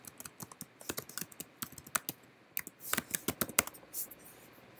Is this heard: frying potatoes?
no